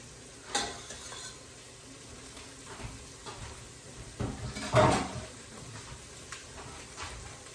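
Garlic for carrot soup hits a hot pan with a burst of sizzling, followed by scraping stirs and a louder flare around the middle, with quieter frying crackle continuing throughout.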